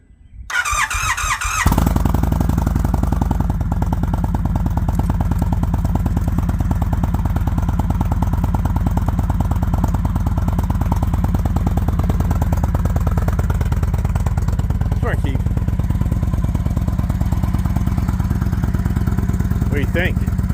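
Motorcycle engine cranks briefly, catches and settles into a loud, steady running note close by that holds without letting up for many seconds.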